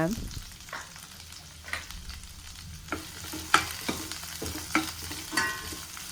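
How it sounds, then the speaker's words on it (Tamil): Curry leaves added to spluttering mustard seeds in hot oil, a continuous crackling fry with several sharp pops and stirring scrapes, fairly close and without speech. "கடுகு நல்லா பொரிஞ்சதும் கருவேப்பிலை ஆட் பண்ணிக்கோங்க"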